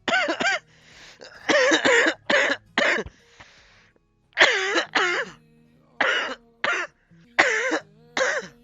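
A man coughs repeatedly during a Valorant match, about ten harsh, close coughs and throat-clearing bursts in uneven clusters separated by short silences, with faint game sounds underneath.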